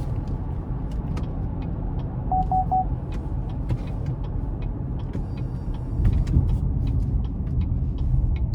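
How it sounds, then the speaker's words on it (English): A 2019 GMC Canyon Denali's 3.6 V6 engine and exhaust hum at a steady cruise from inside the cab, low and even, with a slight swell in rumble toward the end and a few faint clicks over it. "the sound from the engine and the exhaust is also really nice here with this V6"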